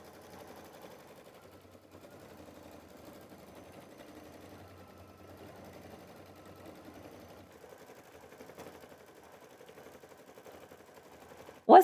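An embroidery-style sewing machine stitches a Kimberbell background quilting design on a mini quilt, a steady, faint rapid chatter running continuously throughout.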